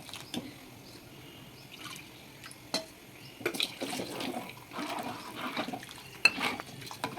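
A spoon stirs a besan flour and water mixture in a pot, giving soft scraping and occasional metallic clinks against the pot, with liquid sloshing in uneven bursts.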